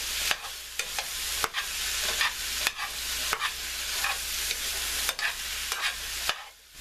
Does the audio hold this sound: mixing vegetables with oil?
yes